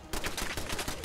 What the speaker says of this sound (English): Well, that's a turret.